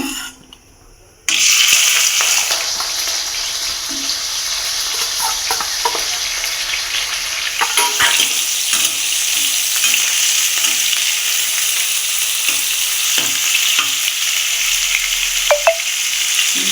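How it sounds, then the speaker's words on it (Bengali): Shrimp coated in turmeric, salt and oil hit hot oil in a wok with a sudden loud sizzle that keeps up for over fifteen seconds, with intermittent scraping and stirring clinks and no voices. "কড়াইয়ে তেল গরম হয়ে গেছে আর এখন আমি চিংড়ি মাছগুলো যে হলুদ লবণ আর তেল মাখিয়ে রেখেছিলাম এখন আমি দিয়ে দেবো কড়াইয়ের মধ্যে"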